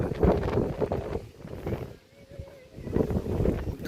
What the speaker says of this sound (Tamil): நல்ல காற்று